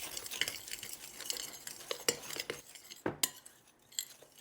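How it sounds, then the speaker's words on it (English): Dry ingredients for breading fried turkey tenders are stirred together in a bowl with a utensil, giving quiet, irregular scraping and a few sharp clinks against the bowl. "we're gonna stir all those together"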